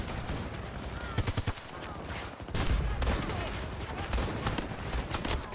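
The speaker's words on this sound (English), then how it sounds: "I point blank with a shotgun" Close-range shotgun and weapon fire in Battlefield 2042, a dense clatter of sharp shots with a few loud bursts standing out against continuous battle noise.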